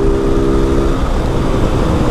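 A Honda Start 160 motorcycle engine accelerating, a loud, dense, close-up roar with steady low rumble and wind throughout.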